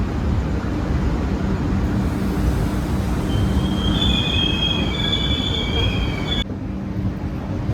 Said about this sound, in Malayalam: അപ്പോൾ നമ്മുടെ ട്രെയിൻ പയ്യാണ് ചെന്ന് കയറിക്കൊണ്ടിരിക്കുന്നത് സ്റ്റേഷനിലേക്ക്